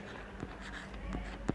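Writing on a board during a chemistry lesson on alcohols, heard as short scratchy strokes and taps spaced out over a low steady background, the last one a bit louder.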